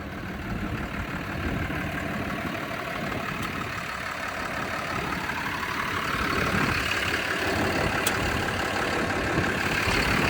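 A Lovol 1304 tractor engine runs steadily while pulling a 2.5-metre disc harrow in the field, a continuous rumbling drone that grows slightly louder toward the end, with no talking.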